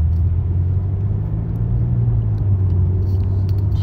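A car engine rumbling steadily from inside the vehicle while driving home, a loud continuous low drone with no talking.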